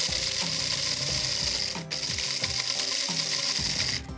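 Roasted coffee beans, cooled after roasting, ground by hand in a manual grinder, giving a continuous crunching, ratcheting grind with a steady rhythm that stays fairly loud and close throughout, with no talk.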